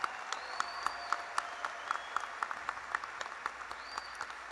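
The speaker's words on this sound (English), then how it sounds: "Let's give them a big round of applause." A commencement ceremony crowd gives a big round of applause, steady clapping from a large hall audience heard at some distance, with individual claps popping out and faint whistle-like tones above.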